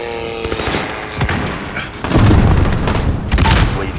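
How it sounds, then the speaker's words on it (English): Cruise missile strike in Call of Duty Modern Warfare on a team deathmatch map: loud booming explosions roll in with dense crackling gunfire around them, growing heavier in the second half, no voices. "Cruise missile ready to launch."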